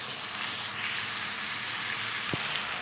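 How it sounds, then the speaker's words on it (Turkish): Ground beef mince fries in a dry pan with no oil, giving a steady, dense, loud sizzle throughout, broken by one brief scrape near the end and no voices. "Kıymamızı eze eze kavuruyoruz. Hiç yağ eklemedik."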